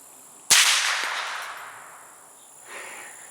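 A single sharp, loud crack from a suppressed Ruger 10/22 rifle fitted with a 1/2x28 thread adapter, followed by a decaying ringing echo and a fainter mechanical clack about two seconds later.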